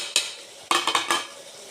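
Masala and tomato pieces are frying in oil, with a spatula giving a quick cluster of close metallic scrapes and taps against the pan over a low sizzle.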